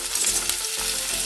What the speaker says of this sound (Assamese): ইয়াতে মই নহৰু আৰু আদা পেষ্টটো দি দিছোঁ।